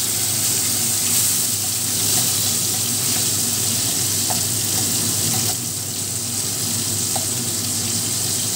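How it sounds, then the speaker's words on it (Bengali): Gram lentil paste goes into hot mustard oil already holding black cumin seeds, setting off a loud, continuous sizzle and hiss that stays close and steady, with a few faint clicks of stirring. "তেলটা হয়ে গেছে, এবারে আমি যেটা পেস্ট করেছিলাম সেইটা দিয়ে দিচ্ছি।"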